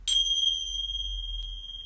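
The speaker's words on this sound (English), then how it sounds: "Let me just ding the bell just for a nice feeling." A single bell is struck once, giving a bright, clear ding that rings on as a long, slowly fading tone, close and alone with no speech over it.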